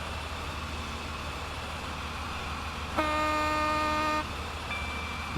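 A train horn sounds in a railway driving simulator with an express HST, one steady multi-tone blast of over a second over the constant low rumble of the moving train, then a faint shorter tone afterward.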